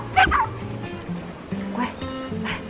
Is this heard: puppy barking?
yes